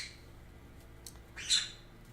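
A pet parrot lets out one sharp, piercing shriek near the end, after a few fainter squawks, close by and in a quiet room with no speech over it.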